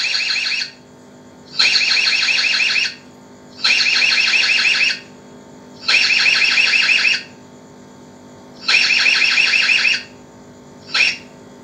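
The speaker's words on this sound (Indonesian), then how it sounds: "Ini kalau serentak saya buat alarm" The alarm siren on a wireless CCTV camera backup unit sounds in loud, bright electronic bursts of about a second each, repeated five times with short silent gaps and a brief final chirp.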